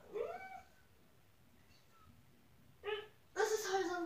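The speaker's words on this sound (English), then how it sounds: "That was my cat." A pet cat meows in a quiet room: one drawn-out meow at the start, then two more meows close together near the end, loud and near.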